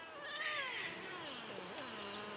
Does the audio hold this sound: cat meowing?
yes